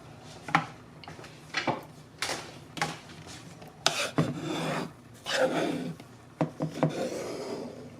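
Spatula scraping and folding egg whites into a cheese and egg yolk cheesecake batter in a bowl, with irregular rubbing strokes and soft knocks against the bowl, close and clear with no talking.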